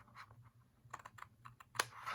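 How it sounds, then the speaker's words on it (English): Scissors with a protruding side screw snip along a scored line in paper, giving faint, close, irregular clicking cuts in quick bursts with no talk. "I'm going to cut along your score line"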